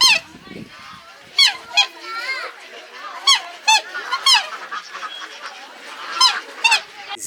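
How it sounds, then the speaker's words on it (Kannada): Black swans give a series of repeated, high, bugling honks, several close together and fairly loud over a soft outdoor background, with a few quieter calls between them. "ಸೊ ಇದು ಬ್ಲ್ಯಾಕ್ ಸ್ವಾನ್ಸ್ ಬಗ್ಗೆ. So you can see dum."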